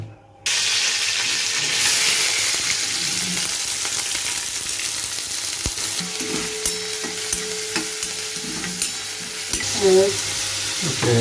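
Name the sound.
hot oil sizzling in a kadhai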